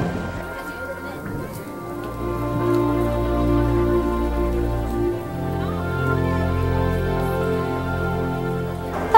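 Steady rain patters and hisses across surfaces in the Magic Kingdom park, a dense, even wash of falling drops, while a low tonal hum and music-like drones play underneath.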